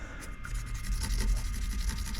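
Finer-grit sandpaper rubs back and forth in a guitar nut slot filled with super glue and baking soda, giving a soft, close, rhythmic scratching of quick repeated strokes.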